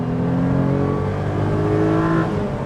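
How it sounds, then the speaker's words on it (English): A Renault Clio V6 engine revving hard while driving, a loud steady tonal growl climbing slightly in pitch over a couple of seconds, close and alone without talk. "But listen to this engine."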